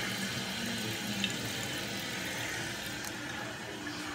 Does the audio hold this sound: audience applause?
no